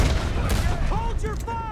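Gunfire in the video game Red Dead Redemption 2 crackles as a loud fusillade of overlapping shots and booms, under shouting voices, with ringing ricochet-like echoes trailing behind.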